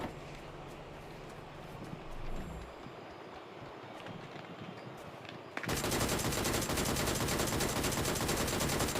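Automatic gunfire in the battle royale mobile game New State Mobile during a qualifier match, a dense continuous rattle of shots that swells abruptly and loudly partway through, with no voices.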